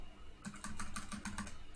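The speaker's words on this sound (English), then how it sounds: "I heard all that typing, apparently." Rapid computer keyboard typing clatters close to a microphone in a quick, even burst of keystrokes lasting under two seconds, with no voices.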